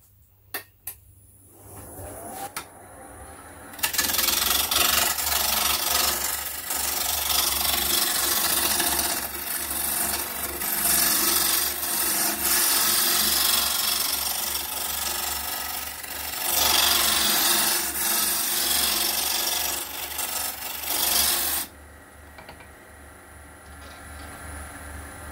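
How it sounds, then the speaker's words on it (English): Roughing gouge cutting a spinning wood blank on a lathe, giving a loud continuous hissing, rasping scrape that starts after a few quiet seconds, swells and dips as the tool moves, then stops near the end. "So we'll just take the roughing gouge again."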